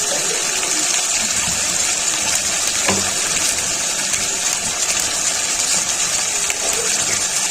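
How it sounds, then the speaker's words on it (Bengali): Water poured from a rinsed spice bowl into a cooking curry in a home kitchen, a steady gushing, splashing pour heard close up and continuing throughout. "আমি একটু ধুয়ে জলটা দিয়ে দিলাম।"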